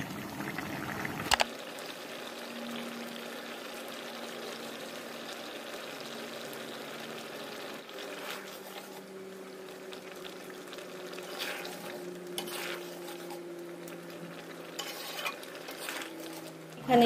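Small kachki fish fry with onions in a pan, giving a soft, continuous sizzle after a sharp clatter at the start, with occasional stirring scrapes and no talk.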